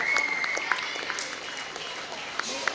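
An audience at an Onam celebration held by a residents' association claps for students honoured for SSLC results, producing a soft, steady patter of applause under a voice and a brief high whistle-like tone.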